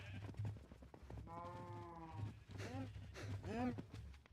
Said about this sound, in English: See you in there, sheep.